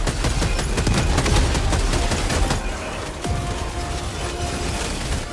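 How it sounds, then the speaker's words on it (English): A machine gun turret in a video game fires in a sustained, rapid stream of close, loud shots. The burst is heaviest at first, then thins to a lighter rattle with mechanical clicks. "I got a machine gun turret incoming"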